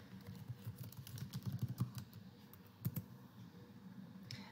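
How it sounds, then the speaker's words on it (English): Typing on a computer keyboard, a quick patter of soft key clicks that speeds up and slows, with a couple of sharper taps, close and fairly quiet in a calm room. "I'm just going to type in Voyant Tools to access it"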